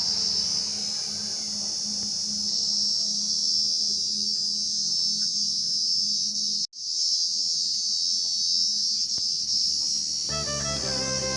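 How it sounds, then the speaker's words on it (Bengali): Crickets chirp constantly in a Bengali village on a hot day, a steady, loud, unbroken insect drone filling the whole stretch with one brief dropout, no talk. "এগুলো ঝিঁঝি পোকার আওয়াজ।"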